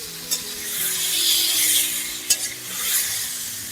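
Ridge gourd slices frying in a pan with a little turmeric, a steady hiss of sizzling oil with occasional stirring scrapes and clinks, close and continuous with no voices.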